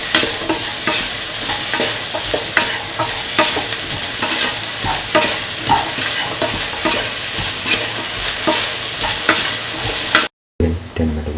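Beans and carrots with salt get stirred in a frying pan, a steady busy scraping and sizzling that runs loud and close almost throughout, broken by a brief dropout near the end.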